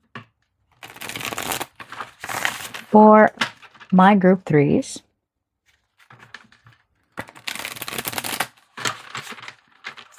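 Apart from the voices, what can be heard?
shuffling oracle cards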